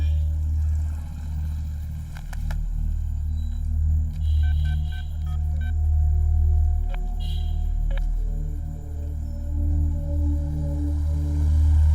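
A telephone number is dialed, with a series of short electronic beeps and tones in two bursts over a constant low hum and rumble, with no talking.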